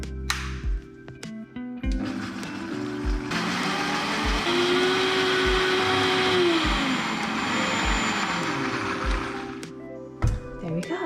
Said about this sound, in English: it can be any sort of blender.